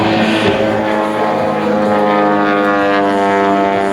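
Loud, steady drone of an aerobatic propeller airplane's engine during rolls at an airfield open day, with a strong harmonic whine that holds for several seconds and slight swells in pitch, heard close with no talk.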